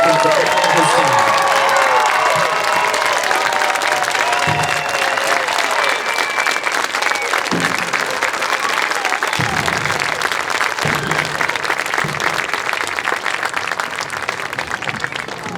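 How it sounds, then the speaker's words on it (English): Loud, continuous applause and cheering from a crowd at a marching band performance for parents, with raised voices calling out over steady clapping that holds for the whole stretch. "Let's give Mr. Mahaney a huge round of applause and thank him for all his time."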